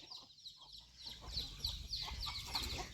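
Chickens cluck and chirp steadily at evening feeding time on a farm during the dry season, with repeated close clucks over a low rumble of background noise.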